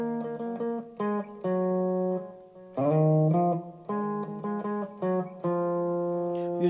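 Full lead guitar part of a song, IBC version, played through as one phrase: a steady stream of picked single notes following a picking pattern, each ringing briefly, close and clear with no voices.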